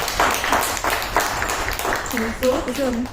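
An audience claps at a talk event, with a burst of scattered, moderately close claps that is mixed with speech and tapers off as a voice continues.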